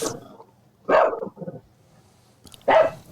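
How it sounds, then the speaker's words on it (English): A small dog, a chihuahua, gives a few sharp, high yappy barks in separate bursts, close by, with a faint voice between them. "You got a dog or something?"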